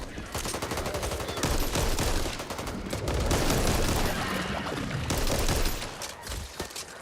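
Gunfire in the zombie shooter Back 4 Blood: a dense, continuous rattle of rapid shots and bursts, loud and close, with intensity swelling and dipping over several seconds.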